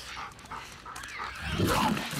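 Dogs in The Last of Us Part II closing in during gameplay, panting and giving short yips that build louder toward the end, with no speech over them.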